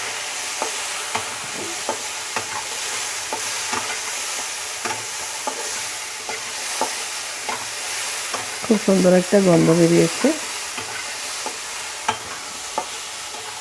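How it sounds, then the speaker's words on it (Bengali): Raw broad bean seeds sizzle and crackle steadily in a hot pan, stirred now and then. Someone speaks briefly partway through. "একটু আমি ভেজে নেব এটাকে"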